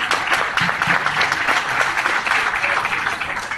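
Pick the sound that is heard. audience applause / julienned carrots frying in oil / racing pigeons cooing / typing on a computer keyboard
audience applause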